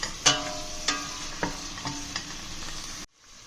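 Tomato puree sizzles in a frying pan for a tomato curry, with about five distinct stirring scrapes over a steady frying hiss before the sound cuts off abruptly.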